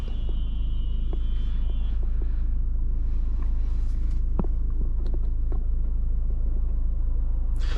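A 2023 MINI Cooper Countryman S accelerates at partial throttle in sport transmission mode, a steady low engine drone and road rumble from inside the cabin, with faint clicks and a brief tone fading early.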